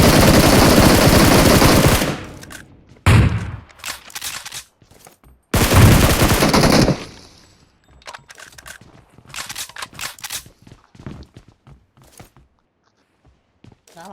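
Gunfire in the mobile battle royale game BGMI: two long, loud bursts of rapid automatic fire with a short burst between, then scattered fainter shots and clicks as the action dies down.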